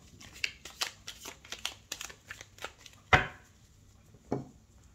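Tarot cards are shuffled and cut close to the microphone, producing a quick run of soft papery flicks and taps followed by a couple of louder slaps as the deck is cut.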